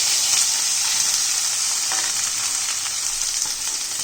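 Cooked rice tossed into a hot tempering of cumin and asafoetida in a pan, a loud, continuous close sizzle with faint stirring scrapes throughout.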